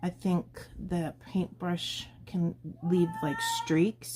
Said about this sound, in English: Oh my god, sorry about my cat. He's running around screaming at everything